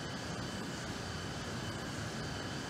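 Simulated cabin of an Embraer E-195 on its takeoff roll in X-Plane 11, a steady, loud broadband jet-engine roar with low rumble filling the whole stretch, no voices.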